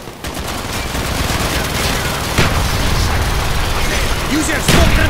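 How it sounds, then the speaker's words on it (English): Mortar and gunfire in the Call of Duty: Black Ops video game, a dense continuous barrage of shots with a few heavier booms, fairly loud throughout. "Enemy! Enemy! Firing mortars."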